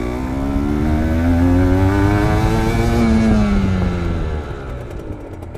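Motorcycle engine revving up during a braking training drill, accelerating toward about 30 then rolling off as the rider brakes, a loud steady mid-pitched drone that rises then fades near the end.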